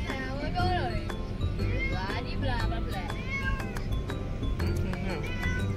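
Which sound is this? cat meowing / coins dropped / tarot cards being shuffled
cat meowing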